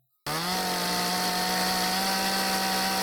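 A chainsaw sound sample for sound design kicks in abruptly after a brief silence, then holds as a loud, steady, buzzing motor drone to the end.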